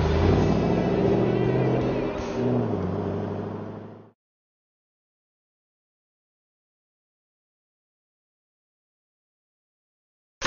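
The engine of a 2013 Ford Mustang Shelby GT500 rumbles loudly and steadily for about four seconds, then cuts off to silence.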